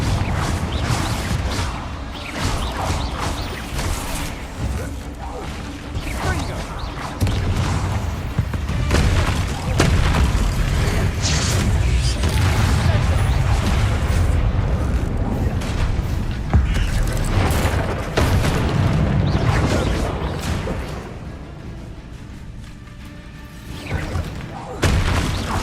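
In the Hogwarts Legacy video game, repeated explosive spell blasts boom and crackle loudly amid busy combat effects for the whole stretch, with a voice casting over them.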